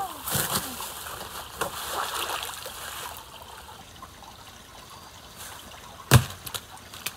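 Water splashing at a river ford, a few sloshing splashes and trickling up front that fade into quiet flowing water, then one sharp strike near the end.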